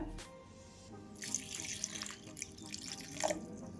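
Water pours briefly into a mixer jar holding chopped beetroot and a green chilli, a soft splashing trickle that swells mid-way and again near the end, fairly quiet with no talk.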